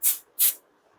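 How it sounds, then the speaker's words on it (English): Two short bursts of deodorant spray hissing onto a shirt, each about a quarter second, close and fairly loud with a brief pause between them, no voices. "I'm gonna spray some on my shirt."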